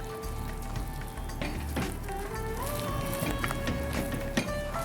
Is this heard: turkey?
no